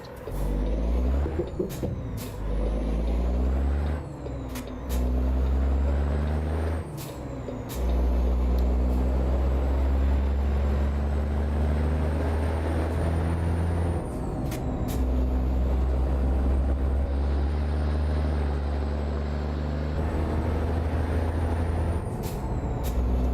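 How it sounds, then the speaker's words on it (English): A truck engine running Creechbomb's engine sound mod in American Truck Simulator drones steadily and low throughout, broken by several sharp air-brake hisses and clicks. "This is Creechbomb's engine mod for the engine today."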